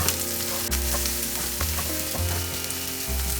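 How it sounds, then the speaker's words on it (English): Onion and potato frying in a pan with mustard and cumin seeds for kanda batata poha, a steady close sizzle broken by stirring scrapes and clatters, with no voices. "We will half fry the onion."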